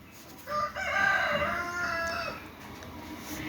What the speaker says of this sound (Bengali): দেখতে খুবই চমৎকার মুরগিগুলা।